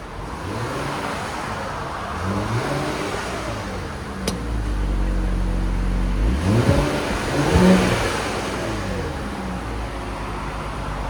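A 2021 Infiniti Q50 with a 3.7L V6 on its stock factory exhaust revving in place, the engine note climbing and falling through several throttle blips, steady and moderately loud close by, no speech.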